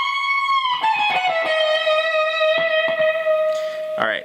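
A distorted electric guitar plays a lick from a solo: quick picked notes slide into a long, sustained singing tone, and a sharp bend comes near the end. The playing is loud and close, with no talking.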